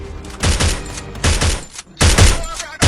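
Three loud, close bursts of rapid automatic gunfire from the battle royale video game Free Fire, each about half a second long, separated by brief gaps.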